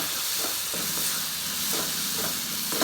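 Bean and potato sabzi sizzles steadily in a pan while being stirred with homemade chili masala and turmeric, a continuous close hiss of frying broken by soft scraping strokes, with no voices.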